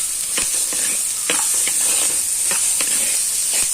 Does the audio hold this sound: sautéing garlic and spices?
yes